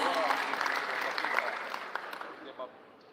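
An audience at the opening ceremony of a 2023 village facilitators' day in North Sulawesi applauds a speaker. The brisk, dense clapping fades quickly while people talk over it.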